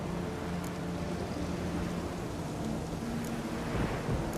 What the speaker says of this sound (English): Storm's died down.